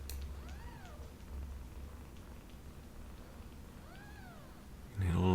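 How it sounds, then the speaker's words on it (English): Kittens from a litter of five give small squeaks and complaining mews in two clusters of rising-falling cries, moderately close over a low background hum, ending in a louder rustle. "All lots of little beeps and squeaks and complaints coming from the kittens"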